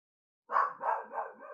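A dog barks three times in a quick series, fairly close and loud, the last bark trailing off, with no speech over it.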